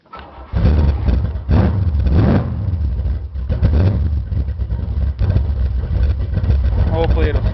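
A car engine cranks and catches on a cold day, then settles into a rough, loud idle close by, with voices talking over it.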